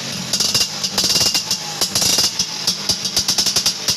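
Toy classic Vespa scooter in red and white giving off a buzzy, rattling imitation engine sound, loud and close, pulsing in rapid uneven bursts with a harsh high-pitched whine throughout.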